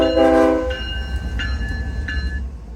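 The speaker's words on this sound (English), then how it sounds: "Coming in a close second for visuals are coal trains." A coal train passes with a low continuous rumble of wheels and cars, loud and near. A long horn blast opens, and three shorter horn tones follow at steady intervals over the rolling noise.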